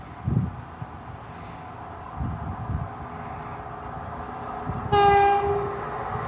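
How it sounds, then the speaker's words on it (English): Cross-country passenger train from Penzance to Manchester Piccadilly passing at Starcross on the Devon coast, with low rumbling rail noise and then a loud, clear two-tone horn blast near the end, no talking. "the next service is a Penzance to Manchester Piccadilly cross-country passer"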